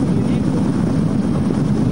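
A navy helicopter over flooded Hat Yai gives a loud, steady rotor and engine rumble close by, continuous throughout the short stretch.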